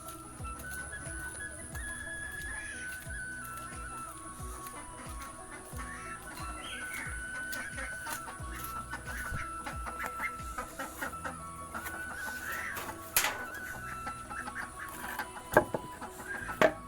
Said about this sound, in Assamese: এইটো লোকেল কুকুৰা নতুনকৈ কিনা